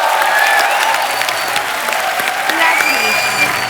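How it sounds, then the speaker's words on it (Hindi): Studio audience applauding steadily at a Hindi comedy talk show, a dense, even clatter of clapping that holds for the whole stretch, with faint voices and whoops mixed in. "तालियां।"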